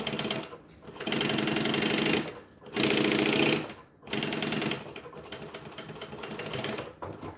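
A sewing machine bastes layers of bonded nylon fabric in several bursts of rapid, loud stitching separated by brief pauses, close and alone.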